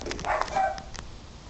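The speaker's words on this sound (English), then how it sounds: "Yup, I see why he's barking, because there is another dog." A dog barks at another dog, a short run of quick, fairly faint yips and barks in a quiet room, fading into near silence.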